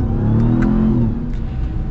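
Supercharged V8 of a 2021 Ram TRX pickup truck revving, a loud close engine note rising and falling in pitch with a steady rumble beneath, heard from inside.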